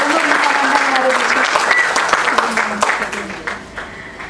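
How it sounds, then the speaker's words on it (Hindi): An audience at a summer lecture series applauds loudly to welcome two wing commanders, steady dense clapping from a full hall that gradually thins over a few seconds. "जोरदार तालियों से दो विंग कमांडर का स्वागत करें।"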